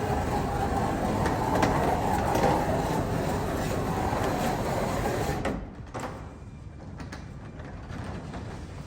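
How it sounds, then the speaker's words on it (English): A residential garage door with newly replaced rollers runs smoothly and steadily, a continuous mechanical hum and rumble from the opener motor that drops noticeably quieter partway through, with no talking. "Here's a before and after of my own garage door, and you can really hear how much of a difference everything made."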